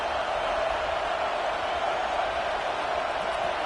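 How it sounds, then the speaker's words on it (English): Stadium crowd noise from the College Football 26 video game during an LSU versus Texas A&M matchup, a steady, dense roar that holds at an even level throughout. "This crowd bringing the energy and noise early."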